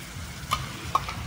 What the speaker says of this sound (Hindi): इसमें डालेंगे हम हमारा लहसुन का तैयार पेस्ट, और इसे भूनना है अच्छे तरीके से